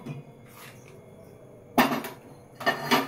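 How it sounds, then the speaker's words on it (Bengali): A metal wok is set down on a kitchen stove for frying in ghee, giving two sharp clanking knocks after a quiet stretch of faint kitchen noise. "তার জন্য আমি একটা কড়াই বসিয়ে দিলাম"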